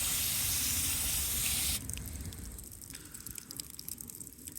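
A brief gush of water onto moist soil at the base of a freshly planted passion vine or pepper plant on a farm, loud at first and then thinning to a softer trickle.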